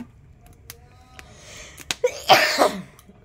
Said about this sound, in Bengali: কাশি হচ্ছে, ঠান্ডা লাগলো।